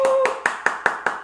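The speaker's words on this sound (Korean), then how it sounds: "박수로 맞이해주세요." Slow, sparse clapping greets a presenter at a Korean product event, six distinct claps in an even rhythm, close and fairly loud, with no crowd wash behind them.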